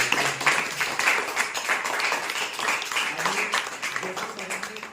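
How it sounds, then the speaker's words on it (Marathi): Applause for a sir and madam at a Bhumi Foundation residential education project gathering in Wagholi: a dense, continuous wash of many hands clapping at steady loudness for about five seconds. "आणि एकदा सरांसाठी आणि मॅडमसाठी टाळ्या बोलतो"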